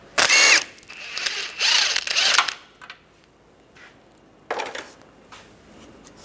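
A hand ratchet with a 13mm socket loosens a bolt at the base of a compressor on a 2005-2007 Ford Five Hundred, giving short bursts of close, sharp clicking separated by quiet pauses, with no talk.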